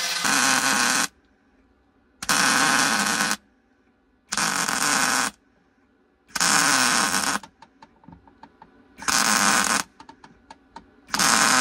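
Five loud, steady bursts of MIG welding crackle up close on a car floor panel, each lasting a second or two and separated by short silences; no one speaks.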